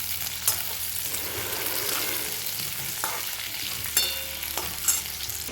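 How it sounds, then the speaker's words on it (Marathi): Bitter gourd frying in oil in a pan, a steady close sizzle with a few sharp clinks of a utensil against the pan, no talking. "इकडे मी कारले फ्राय करून घेत आहे"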